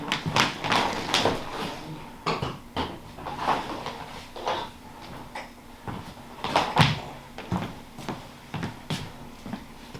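Someone rummages through a studio drawer hunting for a light stand connector, producing repeated clattering knocks, taps and sliding thuds at close range in an irregular rhythm.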